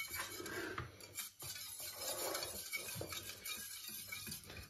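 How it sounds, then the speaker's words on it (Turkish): Spoon scraping and clinking against a pot while kavut soup is stirred as its liquid warms, a steady close clatter with brief pauses and no talk. "Çorbamızın suyu ısınana kadar karıştırmaya devam ediyorum"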